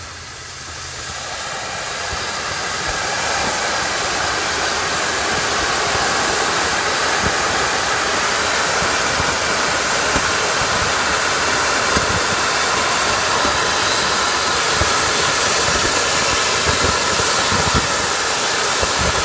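All six thrusters of the Wicked Wheel spin up together in a thrust test, rising within a couple of seconds into a loud, steady, broadband roaring hiss that holds without a break.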